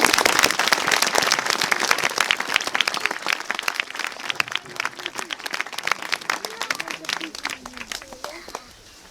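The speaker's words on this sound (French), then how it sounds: "Vous pouvez les applaudir encore très fort." Sustained applause from a gathered crowd at a remembrance ceremony, dense clapping that stays loud throughout and thins slightly toward the end, with a few voices murmuring underneath.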